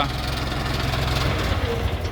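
A Jinma 244 mini tractor with a KM385 engine idles steadily up close, its low, even diesel chug holding a constant pulse from start to finish.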